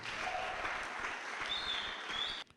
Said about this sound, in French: je vais juste l'entendre faire un max d'applaudissements dans cette émission